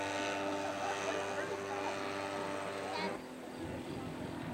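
A radio-controlled scale model aircraft's engine drones steadily at an air show, a loud buzzing tone that drops in pitch near the end as it moves off, with faint crowd noise and talk around it.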